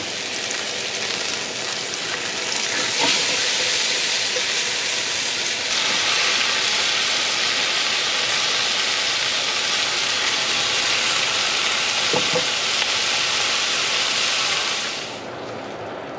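Beef ribs going back into a hot pot for a Filipino mechado, giving a loud, steady broad sizzle and hiss that holds for most of the stretch, then drops off abruptly near the end, with no talking.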